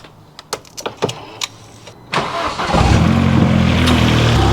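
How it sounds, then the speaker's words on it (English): A Vauxhall Astra VXR starts up after a few sharp clicks of the key turning in the ignition, cranking briefly and then settling into a loud, steady idle close by. "start the car"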